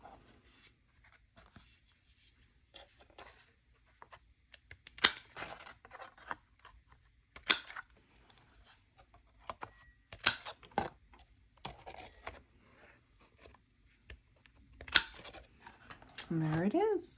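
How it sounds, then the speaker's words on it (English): Scissors trim the edges of a painted watercolour paper bookmark, giving quiet, intermittent snips and paper rustles spread across the clip, with soft talk at times. "now I'm going to trim these edges"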